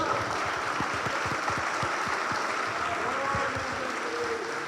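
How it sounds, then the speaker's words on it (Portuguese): A church congregation applauding together during a worship service, a steady wash of many hands clapping with a few sharper individual claps, fairly close and continuous without talk. "Você pode aplaudir o nome do Senhor Jesus?"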